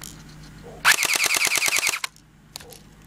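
An old, worn airsoft gun fires a rapid burst of about a dozen evenly spaced, loud, close shots lasting roughly a second, followed by faint clicks.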